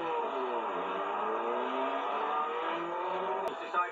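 Formula 1 race cars at the 1976 British Grand Prix, near the Druids curve: a steady, moderately distant engine drone with shifting pitch that holds throughout, ending in a brief sharp knock, with no talk.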